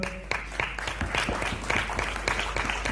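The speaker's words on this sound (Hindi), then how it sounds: "मनीष भाई के लिए भी तालियां जोरदार।" An audience at a training session applauds for Manish, sharp individual claps scattered over a steady wash of clapping, fairly close, with no voices over it.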